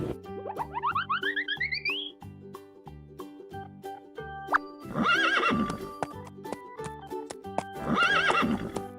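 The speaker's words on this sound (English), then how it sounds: "Horse." Cartoon horse sounds in a children's learning animation: a bright, springy whinny, then two loud, drawn-out neighs over a steady, rhythmic clip-clop of hooves, with no talk.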